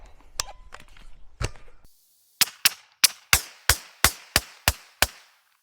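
Nine suppressed shots from an MP5 PDW submachine gun firing 147 grain subsonic, 124 grain NATO and cheap 115 grain 9mm rounds crack out at an even pace, sharp and close, after some brief handling clatter.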